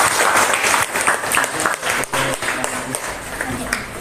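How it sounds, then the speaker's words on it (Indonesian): Audience applause in a classroom or seminar setting, dense sustained clapping from a group filling the room, with voices mixed in underneath. "beri aplaus sama yang depan yuk"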